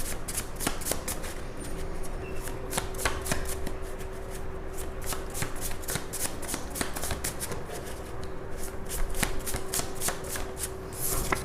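Tarot cards being shuffled by hand, a steady run of crisp riffling snaps and papery slaps repeating throughout at close range, with a faint constant hum behind and no talking.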